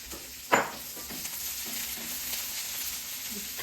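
Cabbage, carrot, capsicum and beans frying and being stirred in a pan for veg spring rolls, a steady close sizzle with one sharp clatter near the start, no talk.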